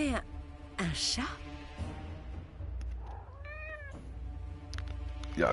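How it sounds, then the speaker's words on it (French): Cat meowing in the video game Forspoken, a single drawn-out meow with a rising and falling harmonic tone in the middle, heard amid game ambience and French-speaking voices before and after. "C'est un chat."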